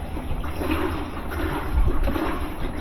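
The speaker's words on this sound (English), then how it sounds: "as you can hear, there's plenty of water in that balance ring" Water sloshing and swirling inside the balance ring of a Samsung washer's drum as it is rotated, a steady low churning wash of liquid noise with a slight swell near the middle.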